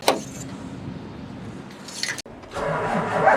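A short starter crank, a brief pause, then an engine catches and settles into a steady rumble, heard close.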